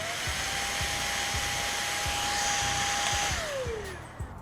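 A cordless vacuum cleaner running after its toggle switch is flicked on, a steady high motor whine that drops in pitch near the end, with light clicks beneath.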